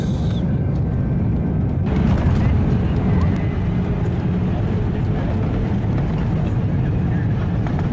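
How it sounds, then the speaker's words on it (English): An EasyJet passenger airplane in flight gives a steady, loud cabin drone of engine and air noise that runs unbroken for the whole stretch. "We're now flying home with EasyJet flight."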